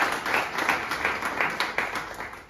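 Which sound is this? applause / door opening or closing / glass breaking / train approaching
applause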